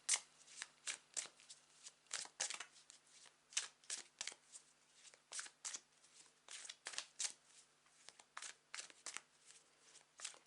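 A deck of tarot cards being shuffled close up, a quick series of crisp riffling bursts repeating in an uneven rhythm, faint and alone with no talk.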